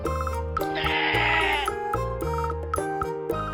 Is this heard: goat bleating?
yes